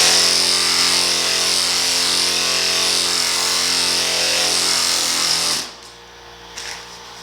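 Steady power sander working body filler on a 1950 Chevy truck, a continuous close buzzing drone that runs unbroken for several seconds, then cuts off abruptly into near silence.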